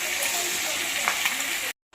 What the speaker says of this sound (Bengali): এখানে মাছের মাথাগুলো ভাজা হয়ে গেছে